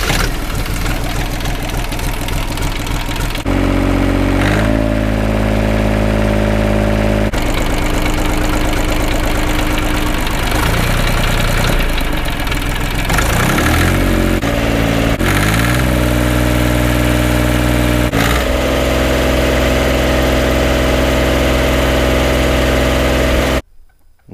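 A tractor engine runs loudly and close by with a steady low idling throb, shifting pitch several times as it is revved and eased back, then it cuts off abruptly at the end.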